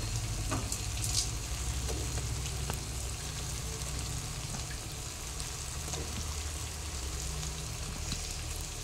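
Mashed potato frying in a hot pan for a dosa filling, with a steady, close sizzle and crackle that runs throughout and occasional scraping stirs and taps of a spoon, with no talking.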